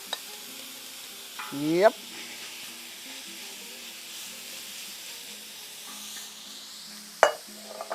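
Meat hitting hot canola oil in a pan, a soft steady sizzle under a brief spoken word, with a couple of sharp clanks of the pan and utensil at the start and near the end.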